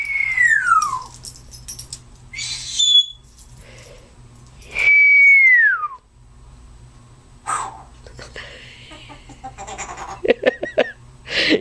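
A Timneh grey parrot gives several loud, clear whistles, some gliding downward and others chirpy and broken, separated by pauses, with faint breathy sounds and no human talk.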